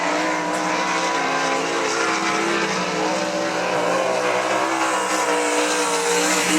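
Lane Racing's number 44 sprint car, driven by Zane DeVault, roars around I-96 Speedway in a steady, loud engine drone with tire noise, sustained throughout without pauses or talk.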